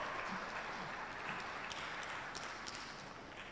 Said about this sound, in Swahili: Makofi mengi, naomba makofi mengi kwao.